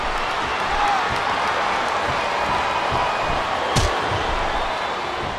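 Steady, dense arena crowd cheering from the WWE SmackDown vs Raw 2008 wrestling video game on Xbox 360, during a women's match. The roar holds fairly loud and unbroken, with one brief sharp hit near the end.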